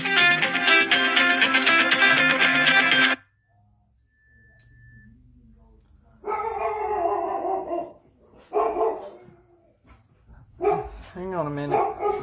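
Dogs indoors bark and howl at a passer-by outside, opening with a loud, sustained burst, then falling silent before sharper volleys return in short clusters, with some talking mixed in.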